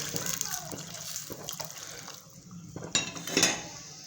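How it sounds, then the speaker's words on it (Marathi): Hot water splashes into a hot pan of masala paneer with a brief hiss and gurgle, followed by clinks of utensils against cookware, close up. "थोडंसं आधी गरम पाणी टाकून घेऊ"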